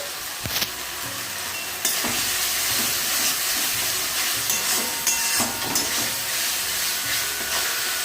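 Egg bhujia with fenugreek leaves sizzles and hisses steadily in a wok, with occasional scraping and stirring knocks over the constant frying noise.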